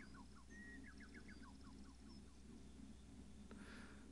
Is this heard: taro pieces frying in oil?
no